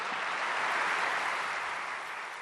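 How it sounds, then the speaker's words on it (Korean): An audience at a prayer meeting for peaceful unification claps to welcome a speaker, a dense, steady wash of applause heard at moderate distance that fades slightly toward the end. "박수로 환영하겠습니다."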